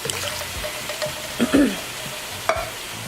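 Diced tomatoes, tomato sauce and vegetables for a chicken and sausage gumbo sizzle and bubble in a pot with light stirring. A soft, steady hiss runs throughout, with a few louder scrapes and sputters.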